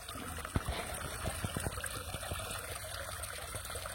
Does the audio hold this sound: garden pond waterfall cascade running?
yes